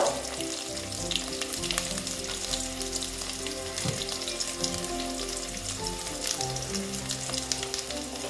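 Potatoes frying in oil in a pan, a dense, continuous crackling sizzle with scattered pops, close and steady throughout.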